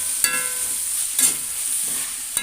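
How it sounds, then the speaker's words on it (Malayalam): Chopped tomato with seeds removed, carrot and vegetables sautéing in a pan, a steady soft sizzle with a few sharp scrape-like stirring clicks spread across it, close and fairly loud, no voices. "ഇതെല്ലാം കൂടി ഒന്ന് വാട്ടി കൊടുക്കാം"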